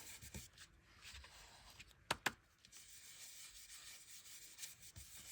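A blending tool rubs ink across paper for a card tag, a soft continuous scrubbing and brushing close by, with a couple of sharp taps partway through and no talk.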